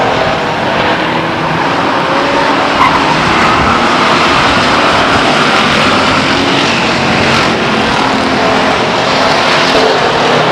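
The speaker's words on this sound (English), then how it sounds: "Drag race down the backstretch." Stock cars race at Stockton 99 Speedway in 2000, a loud continuous roar of engines drag racing down the backstretch, heavy and unbroken throughout with no voices.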